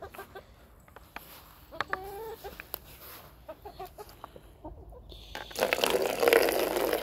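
Chickens cluck softly nearby with scattered short calls, then a burst of splashing water rises near the end.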